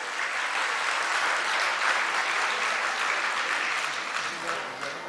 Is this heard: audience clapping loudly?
yes